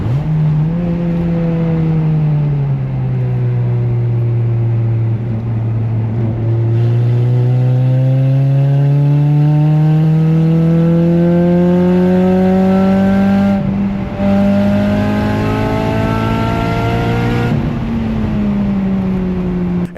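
Race car on a track with an exhaust leak at the flex pipe, a loud close engine drone rising and falling through gear changes, with harsh rasping revs filling the whole stretch.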